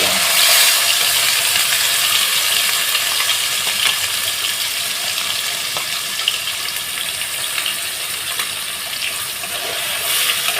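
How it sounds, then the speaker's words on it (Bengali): Boiled vegetable paste and spices frying in a pan, a dense steady sizzle close to the ear, loud and continuous, with faint stirring clicks scattered throughout and no talking. "এইভাবে আমি দিয়ে একটুখানি মশলাটাকে কষিয়ে নেবো"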